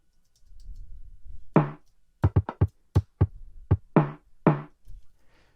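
A finger-sequenced beat pattern on an OP-1 synthesizer: a faint low rumble, then a string of sharp percussive hits in an uneven rhythm, with a few longer noisy snare-like bursts mixed among the clicks.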